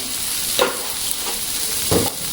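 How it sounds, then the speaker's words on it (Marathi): A spoon scrapes and stirs lima bean curry masala sautéing in a pan, with a steady soft sizzle broken by two brief, sharper stirring scrapes. "आता हे एवढं छान मस्तपैकी ना परत एकदा चांगलं परतवून थोडंसं तेल सुटेपर्यंत"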